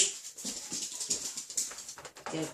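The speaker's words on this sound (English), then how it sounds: "I could hear that dog barking" A dog barks and whines in short, restless bursts, fairly faint and somewhat distant, with no talking.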